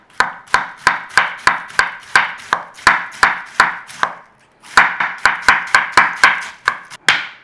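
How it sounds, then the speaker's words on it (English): A knife slices cabbage thinly on a board, close and crisp, in a fast regular run of cuts with a short pause before the rhythm resumes. "We want some sliced cabbage"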